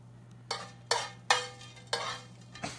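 Bacon bits hitting a hot pan, with five or six sharp sizzling bursts that flare up and fade one after another over a low steady hum, each crackle decaying quickly.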